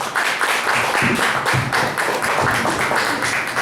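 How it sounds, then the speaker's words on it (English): An audience at an open-door poetry night claps steadily for a poet, dense close handclaps sustained without a break, with no talk over them. "let's all give a big round of applause for Alan"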